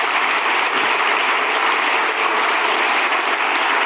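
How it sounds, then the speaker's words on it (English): A crowd at a public conversation event keeps up loud, continuous applause, an even, unbroken roar of clapping with no voices on top. "Let's keep those applause going, everyone"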